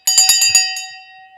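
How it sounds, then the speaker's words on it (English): A single bell is struck several times in quick succession, bright ringing tones that then fade out on their own. "It's time to ring the bell."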